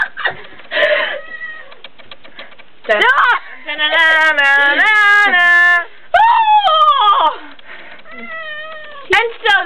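Cats meowing and caterwauling in long, wavering cries that alternate with a voice humming a tune, the animal calls loud and close.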